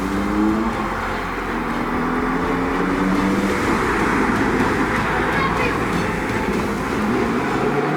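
Cartoon car engine revving and driving in a Hindi animated story, a loud steady motor drone with rising pitch sweeps that runs throughout, blended with a voice.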